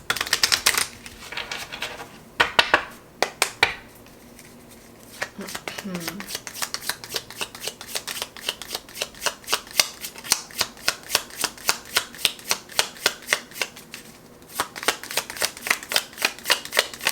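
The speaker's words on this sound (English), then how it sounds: "I'm gonna shuffle again." Tarot cards are shuffled by hand, with scattered rustles at first and then long runs of rapid, crisp riffling clicks. A voice speaks briefly in the middle.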